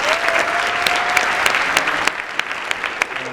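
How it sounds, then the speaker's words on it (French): Audience applause for the organizers of a conference in Bordeaux, dense continuous clapping from a crowd, close and loud throughout. "Je pense qu'on peut les applaudir."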